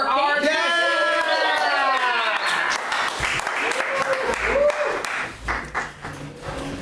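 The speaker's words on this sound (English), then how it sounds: "Round of applause for our" Crowd applause at a live polka show in San Francisco, broad steady clapping that fills the room, with voices and whoops cutting through and a harmonic voice prominent over the first couple of seconds.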